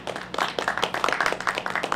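An audience at a WWII weekend presentation claps in a steady burst, close and continuous for a couple of seconds with no voices over it.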